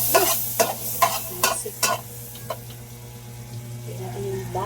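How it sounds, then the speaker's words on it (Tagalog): Butter sizzling in a pan as a spoon stirs and scrapes, giving several sharp close clinks over a steady frying hiss, with brief speech at the start. "Gisa tayo ng butter."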